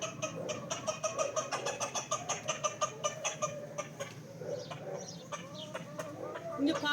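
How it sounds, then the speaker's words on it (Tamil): A rooster clucks in quick, rhythmic bursts to call its chicks to food, close and clear with short pauses between the runs, and other soft bird sounds can be heard in the yard. "இங்க பாருங்க, இந்த சேவல் கூப்பிட்டு சாப்பாடு கொடுக்குது."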